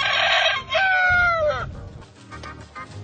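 A fighting rooster crows loudly and close at an East Timor cockfight gathering, with a strained, falling cock-a-doodle-doo, then low clucking and shuffling noise as the bird settles.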